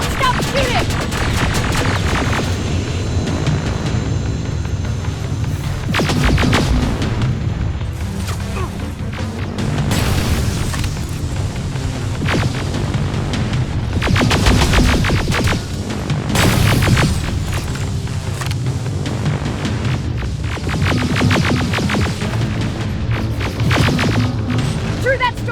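Gunfire fills a Metro Station battle in Terminator Resistance, with repeated heavy booms, crashes and bursts of shots over a constant rumble. Voices shout throughout.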